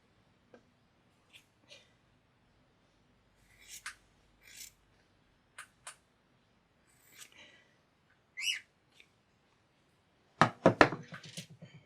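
Sparse, quiet bird chirps and squeaks scattered across the clip, ending in a burst of sharp, crisp snipping-like clicks as a pet bird mimics scissors cutting faux fur.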